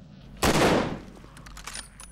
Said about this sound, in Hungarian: És el kell kezdeni lövöldözni.